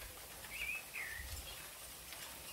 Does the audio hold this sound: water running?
no